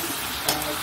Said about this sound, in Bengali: ভাজা আলুগুলো দিয়ে দিলাম।